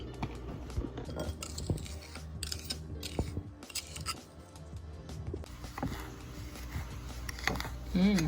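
Goat meat is worked by gloved hands in a bowl with seasoning and turmeric, giving close, irregular squelches, clinks and scrapes, with quiet gaps between bursts of handling.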